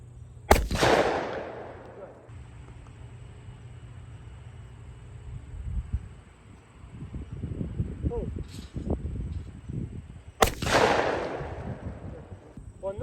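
Two loud, sharp shotgun blasts at a skeet shooting range, several seconds apart, each booming close and trailing off, with people talking in between.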